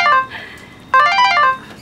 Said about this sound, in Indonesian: Ada telepon tuh kan?